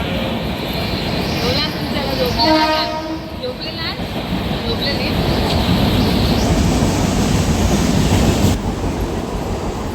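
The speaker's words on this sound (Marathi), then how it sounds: "ट्रेन चालली बाय बाय करा ट्रेनला" A local passenger train pulls out of a station with a loud, steady rumble and rising rail noise. A horn-like tone sounds briefly near the start.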